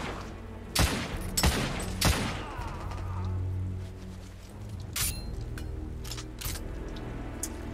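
A carbine fires a few sharp, loud shots in The Order 1886, spaced irregularly, with a quieter run of distant shots and thumps following during a firefight.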